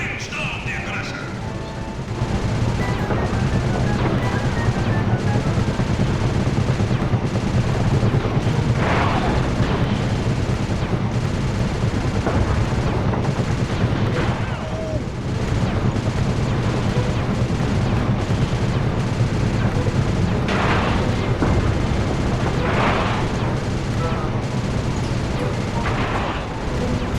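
Gunship gunfire in Sly 2: Band of Thieves rumbles continuously with repeated heavy booms and bursts under a steady roaring engine and game score, with voices speaking at points.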